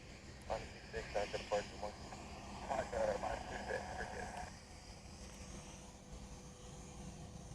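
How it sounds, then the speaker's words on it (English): A business jet taxiing at Honolulu airport, a distant engine rumble and whine that swells and then fades, under close conversational talk that stops partway through. "So we got a biz jet coming around the corner."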